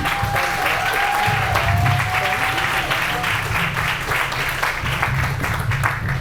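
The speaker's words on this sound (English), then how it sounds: "I just want you guys to give her a big round of applause again." Big round of audience applause at a wellness center groundbreaking ceremony, thick steady clapping near and loud, with a low hum and some whistles or cheers mixed in.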